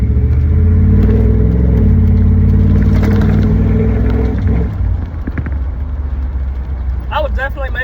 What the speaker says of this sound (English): This has got to be one of the best sounding Vortex I think I have ever heard.